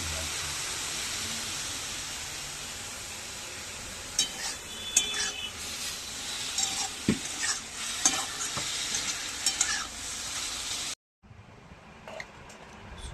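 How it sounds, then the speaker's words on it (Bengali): Red amaranth greens fry and are stirred in a pan: a constant sizzle runs throughout, broken by scraping strokes and light metallic clinks from the spatula. Near the end it cuts out briefly, then resumes more faintly. "লাল শাক ভাজা হয়েও গেল"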